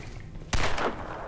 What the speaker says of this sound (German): Ah, da schießt doch wer.